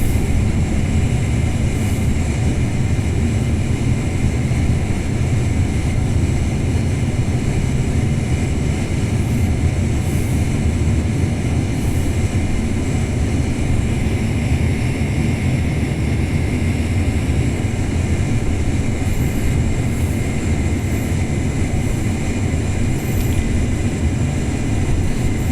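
Boeing 747-400 jet engines in the FSX flight simulator throttle back from takeoff thrust, a steady, loud broadband roar with a low rumble holding throughout and no talk.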